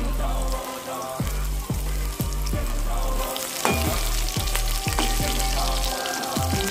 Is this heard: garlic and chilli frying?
yes